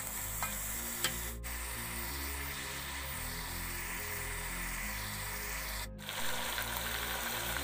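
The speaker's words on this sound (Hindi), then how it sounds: "अब थोड़ी देर इसको और भून लेंगे।" Beef nihari frying in a pot, a steady close sizzle with faint stirring scrapes running throughout under a low background hum, no talk.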